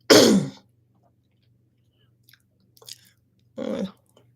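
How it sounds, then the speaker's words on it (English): Someone chews on a wooden toothpick: a sharp, close crunching burst at the start, a few faint mouth clicks, then another short crunch near the end, separated by near-silence. "going to stop chewing on this toothpick"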